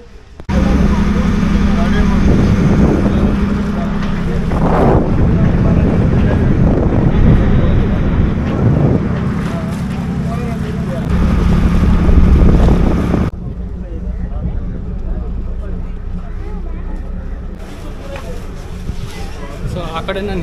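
A passenger ferry crosses the Gurupura river near Sultan Battery in Mangalore, its engine giving a steady loud rumble under heavy wind buffeting the microphone, with the water and motor continuing throughout.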